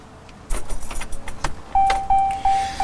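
A diesel pickup truck is started with its keys: a jangle of keys, then a loud burst of cranking and engine noise. A repeating electronic chime from the cab follows.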